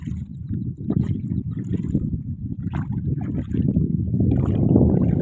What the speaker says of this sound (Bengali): আমার জামাই আর আমার কাকা দাঁড় টানছে